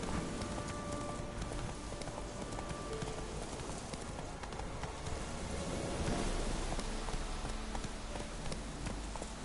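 Hooves of the horse Roach clip-clop in a steady rhythm throughout in The Witcher 3 on PS4, loud and close over a dense wash of game ambience and music.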